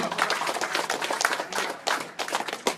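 An audience claps to welcome new members at a political gathering in Sipitang, a dense, steady burst of many hands close by, with no talk over it.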